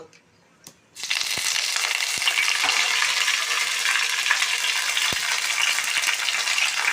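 Tempering spices hit hot oil for coconut chutney, bursting into a loud, continuous sizzle after a quiet second, with crackles and pops scattered throughout, close to the microphone.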